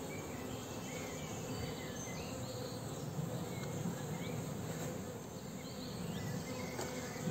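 A low, steady hum of many honeybees buzzing at the hive nearby, continuous and soft, with faint chirping insects in the background.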